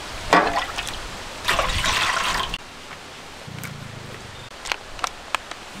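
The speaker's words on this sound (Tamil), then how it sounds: "நாங்கள் 5 சூப்பு பாக்கெட்டுக்கு 6 லிட்டர் தண்ணி இந்த பாத்திரத்தில் ஊற்றிக்கிறோம்." Water is poured into a cooking pot for goat leg soup in two splashing bursts, followed by quieter drips, light clinks and handling noise.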